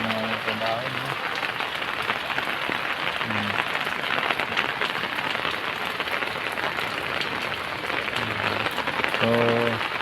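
Steady rain pours down at the start of the rainy season, a dense continuous hiss of drops striking surfaces, with faint brief tones and a voice or two briefly heard beneath it.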